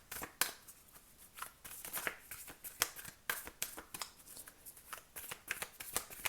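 Tarot cards riffled and shuffled by hand in a rapid run of crisp, papery snaps and flutters, close and fairly quiet, with no talking.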